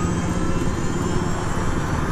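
Helicopter in a video game lifting off, a steady, loud whirring engine drone with rotor rumble, continuous and unbroken with no speech.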